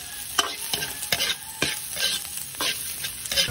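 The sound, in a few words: sautéing garlic, onion and chorizo de Bilbao in a pan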